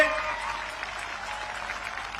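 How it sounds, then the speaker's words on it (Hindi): A crowd at an outdoor political rally in Santirbazar claps steadily and densely, a continuous wash of applause from start to finish, with faint voices underneath. "ताली बजाओ सभी लोग प्रमोद के लिए"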